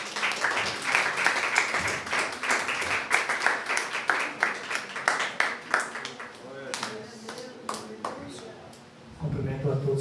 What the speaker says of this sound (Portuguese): As palmas para o Senhor nosso Deus.